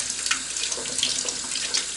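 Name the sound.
water running while washing eggs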